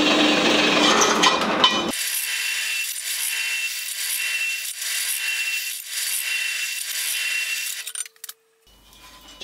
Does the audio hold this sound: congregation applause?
no